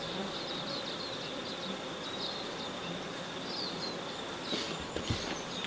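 Honeybees hum steadily around an open beehive during winter hive inspection, a continuous close buzz with a few louder passes near the end.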